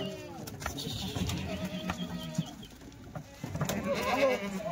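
Kathiawadi goats bleat intermittently near a pen while someone talks over them, several short nasal calls scattered through the moment along with rustling movement.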